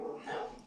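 Dogs barking somewhere nearby, a brief cluster of barks lasting under a second, moderately faint, with a voice faintly mixed in.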